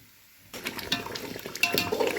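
Homemade red chili powder being stirred into chicken curry in a pot, a soft wet scraping and sloshing that starts abruptly and continues in uneven close strokes.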